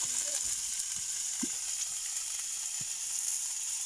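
Food fries in a pan at a hillside hut, giving a steady, close sizzling hiss throughout with a few soft clinks mixed in.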